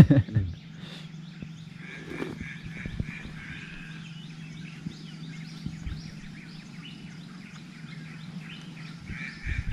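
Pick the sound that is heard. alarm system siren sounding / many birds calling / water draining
many birds calling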